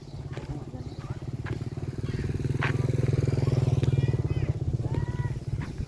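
A motorcycle engine passes nearby on a rural road, a steady buzzing drone that swells in the middle and fades, heard under people talking.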